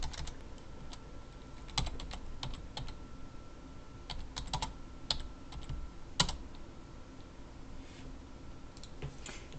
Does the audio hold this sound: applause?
no